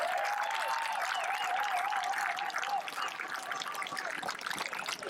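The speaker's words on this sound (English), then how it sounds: "he really needs a major round of applause" Applause at a presentation for cricketer Keacy Carty, Under-19 Cricket World Cup man of the match, a steady wash of clapping with whistling tones warbling over it for the first few seconds.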